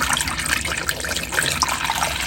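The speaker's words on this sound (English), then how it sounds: "This is just tap water, and I'll pour it in here." Tap water poured from a half-gallon container into a composting toilet, a steady splashing, trickling pour heard up close and alone, with no speech.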